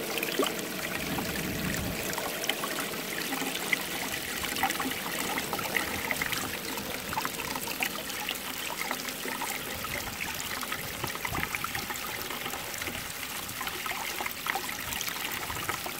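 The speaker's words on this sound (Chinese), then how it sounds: "我现在这个田里正在搞自动浇水，这个水压有自动浇水会，我这里的水压有点不够" Water from an automatic field irrigation setup, running at low pressure, trickles and splashes steadily and evenly throughout, close by with no voices.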